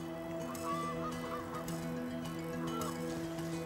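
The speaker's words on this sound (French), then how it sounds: "les bernaches du Canada aussi" Canada geese honk at a nature reserve beside the Allier river. The nasal calls come in repeated bursts over a steady outdoor background at moderate distance, with no talking.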